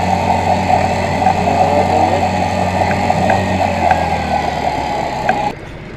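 A jet ski engine runs after a choke start on a sandy island beach, a loud, steady mid-pitched drone with a few small ticks before it drops off abruptly near the end.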